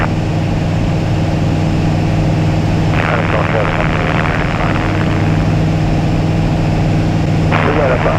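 A small airplane's propeller engine drones steadily and loudly in flight, a constant low hum with bursts of radio or cockpit chatter over it.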